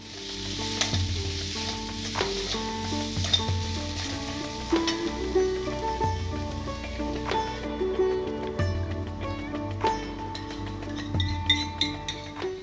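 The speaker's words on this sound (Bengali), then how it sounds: "এবার গুঁড়ো মশলাটাকে ভালো করে ওই মশলার সাথে মিশিয়ে নিতে হবে।" Ground coriander and Kashmiri chili powder fry with masala for potol chingri, a close, steady sizzle under frequent scraping stirs and light clinks of a spoon against the pan.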